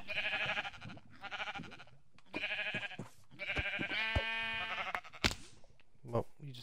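In the video game Minecraft, a sheep caught in fire gives repeated wavering bleats in short bursts. A person's voice overlaps and may be mimicking the bleating, and several sharp clicks come near the end.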